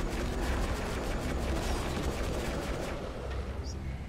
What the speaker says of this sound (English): There's a lot of gunfire going on over there.